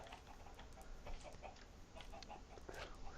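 Blocky chickens clucking in the modded Minecraft game Feed The Beast, scattered short clucks over a steady background wash.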